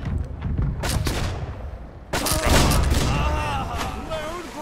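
Ship cannons boom in a naval battle in the video game Blackwake, with two heavy blasts about two seconds apart and the second louder, while players talk over the gunfire.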